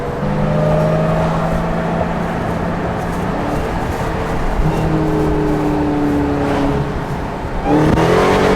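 A 797 hp SRT Hellcat Redeye is floored with its wheels spinning for lack of traction, giving a loud, close, sustained engine roar with rising harmonic tones and a sharp surge near the end.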